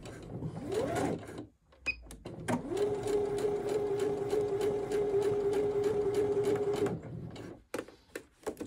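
A sewing machine runs a zigzag stitch, sewing forward and back on men's boxer shorts: a short burst of stitching, a pause, then a steady close whirring run of about four seconds before it stops.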